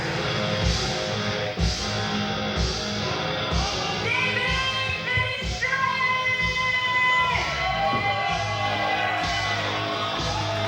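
Live wrestling crowd at a UCW-Zero event, a steady loud roar of cheering, shouting and whoops filling the whole stretch without letup.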